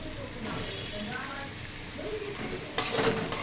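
Fried potatoes and egg sizzle in a pan while being stirred, with a steady frying hiss and a brief scrape near the end, and a voice talking under it.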